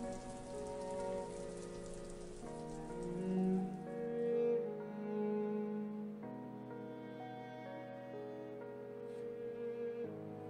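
Torrential rain in an RPG Maker horror video game pours as a steady, even hiss for the whole stretch, mixed with sustained musical tones.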